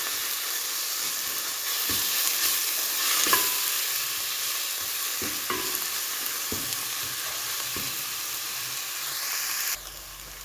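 Garlic ginger paste frying in a pan for a potato and egg curry, a steady sizzle and hiss with repeated scraping stirs of a spoon, close and continuous, ending with a change near the close.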